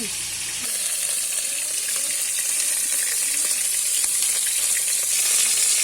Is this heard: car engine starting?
no